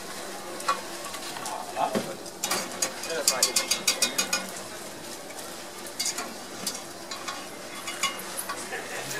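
Churros fry in deep fryer oil with a steady bubbling sizzle, while a rapid run of metallic clicks and rattles marks them being lifted out. A voice speaks briefly.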